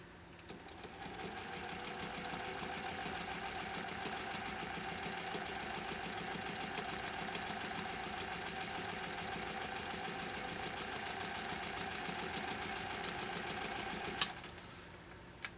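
A 1930 Singer 101-4 electric sewing machine fitted with a leather needle, sewing a fine stitch at about 18 stitches per inch. It gives a steady, fast mechanical whir and rapid needle clatter for about fourteen seconds, then stops, with no talking.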